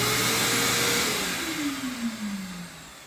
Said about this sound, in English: number 3 is there, and it is powering the shop vac.